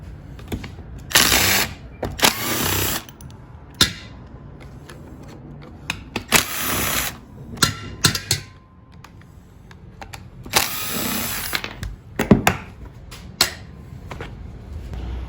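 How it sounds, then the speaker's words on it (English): Power driver backing out three screws from the housing of a Stihl HT-100 pole pruner on a workbench, heard as several short bursts of whirring and rattling separated by handling clicks and quiet gaps. "So we'll remove these 3 screws."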